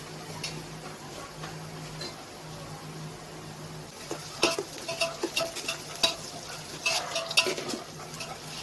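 Onions fried until reddish, with ginger paste just added, sizzle softly in a pan, with a steady low frying hiss and a run of sharper spoon stirs and scrapes against the pan in the second half.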